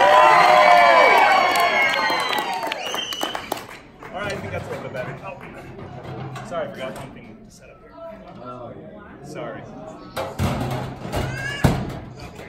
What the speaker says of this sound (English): So I need more cheering than that.